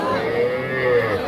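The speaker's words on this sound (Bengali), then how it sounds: "অনেক ষাঁড় বাচ্চা আছে" A bull calf at a rural livestock market in Ishwardi, Pabna, gives a single drawn-out low moo, close and clear over a faint murmur of the crowd.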